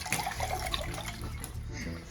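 Water is poured and splashed onto a seated guest during a comedy drama scene, a close, wet gushing that runs continuously while people talk.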